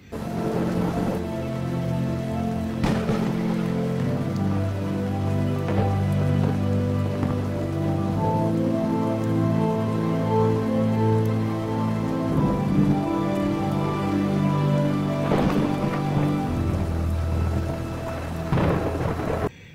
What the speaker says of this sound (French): il est seul à recevoir l'eau de pluie sur son parapluie